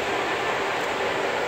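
Trains pass at North Park, a loud continuous rumble and rushing roar filling the whole stretch close by, with no voices over it.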